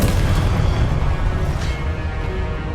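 A Confringo blasting spell explodes in Hogwarts Legacy on PS5 during Percival Rackham's Trial, giving a loud, dense rumbling boom that fills the whole stretch with steady, heavy low-end roar and no pause.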